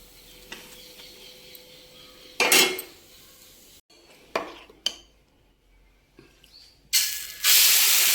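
A freshly cooked dosa goes onto a plate in a home kitchen. Sharp metallic clanks and scrapes of a pan and plate are heard, then a loud spray-like hiss near the end, with no talking.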